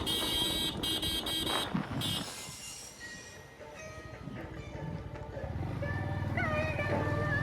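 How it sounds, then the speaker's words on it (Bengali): Vehicle horns honk along a road from Kalyani through Ghoshpara to Madanpur, heard from a Yamaha MT-15 motorbike, with sustained tonal toots rising over a rumbling traffic background. "পুরো রাস্তা ভরে শুধু হর্ন টিপতে হয়।"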